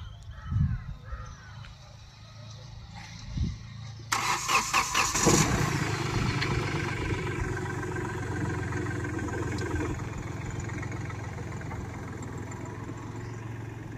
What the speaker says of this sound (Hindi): स्टार्ट करने के टाइम पे थोड़ी सी आवाज़ आई होगी, तो मैं आपको बता दूं यह गाड़ी डीजल इंजन है